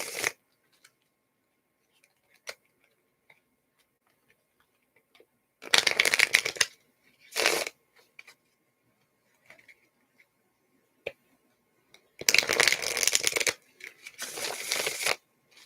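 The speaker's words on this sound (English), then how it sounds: "Let's shuffle these cards." Tarot cards are shuffled in two pairs of brisk riffling bursts, close and clear, with quiet pauses and faint taps between them and no talking.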